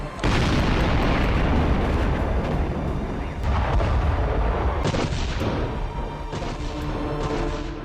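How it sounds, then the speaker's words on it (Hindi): Artillery shells and tank fire in the war in Ukraine boom and crash in a dense, continuous barrage, with loud, sharp blasts stacking on top of one another and no voices. "आसमान से गिरते गोले, फाइटर जेट की दहलाने वाली आवाज और टैंक के धमाके"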